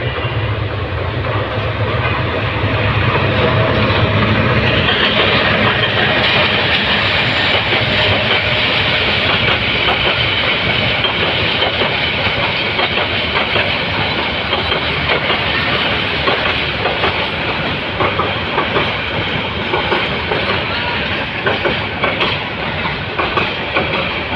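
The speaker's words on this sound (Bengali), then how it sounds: "দেখুন একটি ট্রেন আসতেছে ট্রেনটি আপনাদেরকে আমি দেখাই সরাসরি দেখুন কত সুন্দর অনেক সুন্দরভাবে আসতেছে" A train on a railway line, a loud continuous rumble of wheels with rhythmic clickety-clack over the rails and a hissing edge, heard close and sustained without voices.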